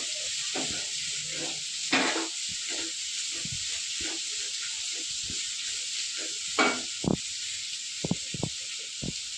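Onions fry for an oyster mushroom curry, a steady high sizzle and hiss from the pan, with intermittent stirring clatters and scrapes close by.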